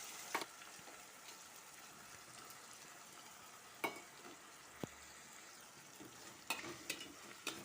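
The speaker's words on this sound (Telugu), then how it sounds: "ఈ వెజిటేబుల్స్ అన్నీ వేసి బాగా ఫ్రై చేయాలి." Potatoes, carrot and cauliflower stir-frying in oil for a vegetable biryani, a quiet continuous sizzle broken by occasional sharp clinks of a spoon against the pan.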